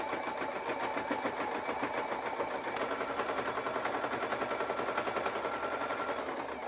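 A sewing machine hems fabric for homemade Christmas decor, running in a fast, steady rhythmic stitching chatter at moderate volume with no talking.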